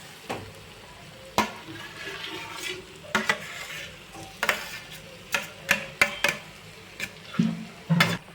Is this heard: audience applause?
no